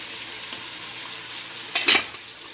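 Liver frying in a pan: a steady, close sizzle with a brief stir or scrape near the end.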